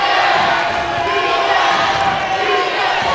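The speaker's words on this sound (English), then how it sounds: "The Dolphins crowd trying to get their CSI team going." A home crowd at a women's college basketball tournament game cheers on the CSI team, a sustained roar of voices filling the gym, loud and steady.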